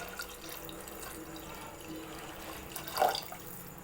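Water poured into mashed tomatoes for tomato pulusu gives a quiet, steady trickle with a brief louder splash near the end.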